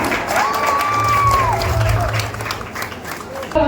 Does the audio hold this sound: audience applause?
yes